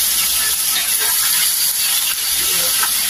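Pechay sautéing in hot oil, a steady loud hiss and sizzle filling the space with faint crackles throughout, no voices.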